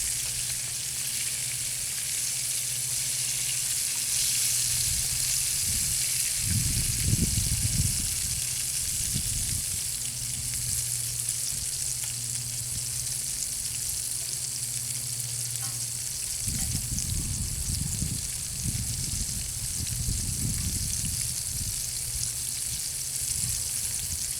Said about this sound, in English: I think I'm just going to fry up a quick lunch